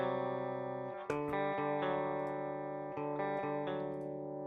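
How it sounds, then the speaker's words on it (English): Electric guitar played through a clean amp simulator in Logic, with a few sustained chords changing at a steady pace and ringing out with a shimmering chorus and echo effect, alone and without any talk. "Within Logic, though, you can pull up different amp sims."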